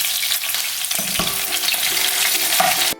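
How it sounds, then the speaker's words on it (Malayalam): Green chillies fry in hot oil for beef 65 with a loud, continuous crackling sizzle and occasional scraping stirs, cut off abruptly at the end. "പച്ചമുളക് നമ്മളിതാ കോരി എടുത്തിട്ടുണ്ട്, വറുത്ത് ഇതാ ഫ്രൈ ആയിട്ടുണ്ട്"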